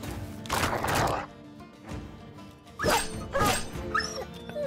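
A dog in the video game Battle Brothers barks and whimpers in short yips and cries over game sounds and impacts, fairly loud and close.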